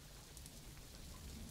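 Steady, even rain falls in a Planet Zoo game scene, a soft continuous hiss at low level with no voices over it.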